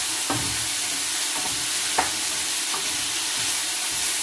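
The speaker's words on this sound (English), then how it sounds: "just ache your hand a little bit, all this stirring." Pork stir fry being tossed in a pan, a constant hissing sizzle with occasional faint knocks and scrapes of stirring, close by.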